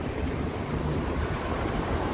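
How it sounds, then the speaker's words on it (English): Wind gusting along a downtown Chicago street on a warm summer day, a steady broadband rush with low rumble, continuous and fairly strong throughout with no talking. "At least I hear the wind."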